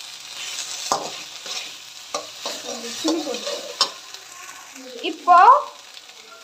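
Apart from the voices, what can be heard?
sautéing vegetables with sauce in a pan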